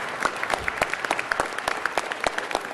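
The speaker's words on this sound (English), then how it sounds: "Let's give these young people a round of applause" A modest round of applause at a city council meeting, uneven individual claps from a small gathering, close and distinct, with no speech over it.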